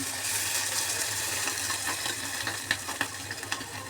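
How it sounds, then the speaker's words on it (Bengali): Eggplant and hilsa curry fries steadily in a pan with a broad, constant sizzle, and a few sharper splashes and crackles near the end as water goes in; no voices. "আমি এখন হচ্ছে একটু পানি অ্যাড করব"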